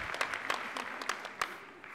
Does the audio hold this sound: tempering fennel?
no